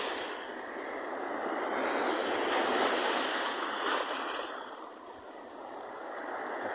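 Sea waves break against rocks on a shoreline in a steady, continuous broadband wash, swelling and easing over several seconds with no talk.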